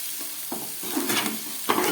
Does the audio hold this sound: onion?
yes